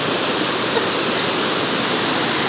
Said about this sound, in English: There's some that are about to go over the waterfall.